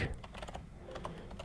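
Quick, light keystrokes as a command is typed on a computer keyboard in a Linux terminal session, a short close burst of clicks with uneven rhythm and no talking.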